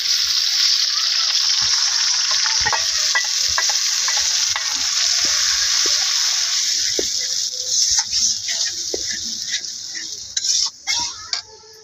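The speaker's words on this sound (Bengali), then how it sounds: "তার জন্য মশলাটাকে কষাই নিতেছি।" Spice paste with onion sautés in a pan, hissing steadily up close with light scraping stirs, the sizzle thinning toward the end as stirring knocks grow sharper; a voice may be faintly present.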